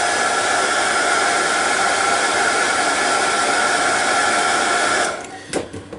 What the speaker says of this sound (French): je vais être obligé de sécher puis de recommencer